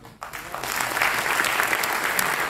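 A crowd applauds steadily at a political rally in Nashik, a dense wash of clapping rising after a brief pause and holding loud and even.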